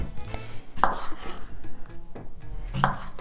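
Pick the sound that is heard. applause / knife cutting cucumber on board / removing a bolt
knife cutting cucumber on board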